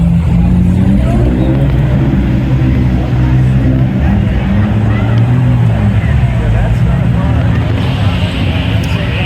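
Shelby Series 1 sports cars pull away at a Cars on 5th rollout, engines droning and revving loudly and continuously, with people talking over the steady low rumble.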